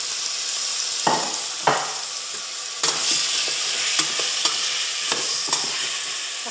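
Potatoes and carrots drop into a hot frying pot with a couple of sharp thuds, then a continuous loud sizzle with repeated stirring scrapes and taps, heard up close without speech.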